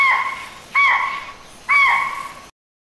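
Spotted deer alarm calls in a forest where a tiger is present: three sharp, high, bird-like whistled calls spaced about a second apart, clear and fairly close, with no other sounds.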